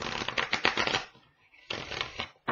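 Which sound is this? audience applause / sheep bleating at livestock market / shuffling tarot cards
shuffling tarot cards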